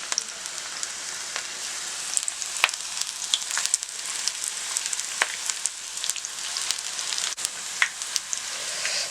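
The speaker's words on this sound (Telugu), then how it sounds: "ఆయిల్ బాగా వేడైన తర్వాత ముందుగా కలిపేసుకున్నవి ఆనియన్స్ని ఒక్కొక్కటి స్ప్లిట్ ఇలా విడివిడిగా వేసుకోవాలి." Onion pakodi frying in hot oil, a close, bright crackling sizzle with scattered sharp pops and spits throughout, with no talking.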